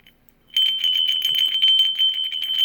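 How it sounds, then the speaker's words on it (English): Old crotal bell shaken close by, giving a bright, continuous tinkling jingle with quick repeated strikes after a short moment of silence. "I love finding these crotal bells"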